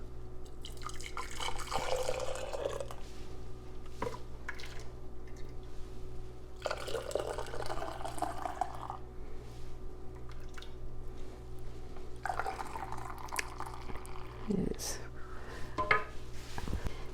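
Warm rhubarb juice concentrate pours into a warm canning jar in several separate bursts of liquid splashing, with soft drips and a faint clink of glass between them, close and fairly quiet.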